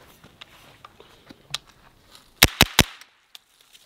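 Aero Precision EPC-9 pistol-caliber carbine firing outdoors: three quick loud shots in a tight burst, preceded by fainter distant pops and quiet handling noises.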